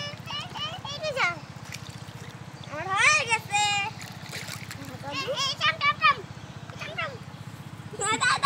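A child walks and splashes through shallow water outdoors, with small splatters and trickles under a child's chatter and an adult's coaxing voice, over a steady low engine-like hum.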